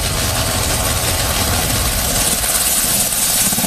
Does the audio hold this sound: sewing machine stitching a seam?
no